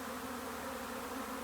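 A dense, steady buzz of honey bees fills the air around a strong hive during swarming, loud and close with no break.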